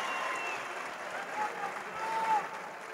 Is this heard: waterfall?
no